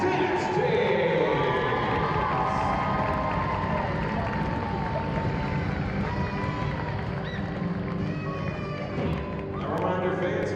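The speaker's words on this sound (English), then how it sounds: "one more round of applause for the seniors on this year's Arkansas Tech Cheerleading and Dance Team" Basketball arena crowd applauding the senior members of a college cheerleading and dance team on senior day, a broad steady roar of clapping and cheering filling the hall, with an announcer's voice over it throughout.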